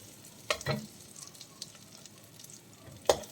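Chopped garlic, about two teaspoons, sautéing in melted butter: a soft, low sizzle broken by a few sharp spatula clicks, two near the start and one near the end.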